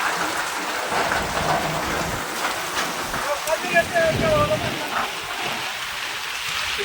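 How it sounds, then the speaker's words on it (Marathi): Heavy rain pouring over an open field with wind, a dense continuous wash of noise close to the mic, with a faint high tone briefly in the middle. "जोरदार म्हणजे जोरदार भयानक पाऊस चालू आहे"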